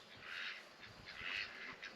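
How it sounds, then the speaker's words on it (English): Homestead ducks quacking faintly in two short bursts, distant and quiet over a low background hum. "Hey, ducks. You coming out for the day?"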